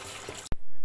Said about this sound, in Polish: wkładamy do garnka i zalewamy wodą